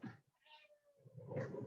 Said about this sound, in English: Excuse me while I move my cat.